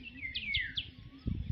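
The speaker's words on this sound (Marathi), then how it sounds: "चिमण्यांचा, पक्ष्यांचा, सगळ्यांचा चिवचिवाट कालवा चाललाय नुसता." Sparrows and other birds call in the morning with a few quick, bright, sweeping chirps close by. A low thumping handling noise comes in at the end.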